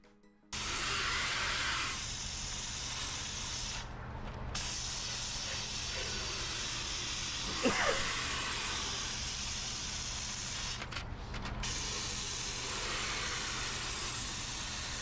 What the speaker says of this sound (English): But it's a solid steamer.